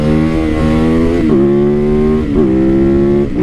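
A motorcycle engine roars loudly and close, its pitch climbing hard under acceleration with two brief dips at the shifts, while the front wheel lifts into a wheelie.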